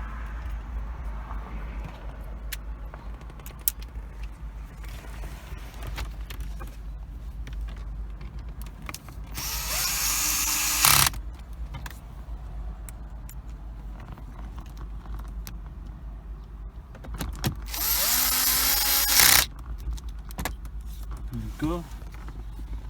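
A power drill drives screws into the dash of a 2014–2016 Infiniti QX60 during a car stereo and CarPlay/Android Auto install: two loud, close whirring bursts of a couple of seconds each, separated by quieter handling noises.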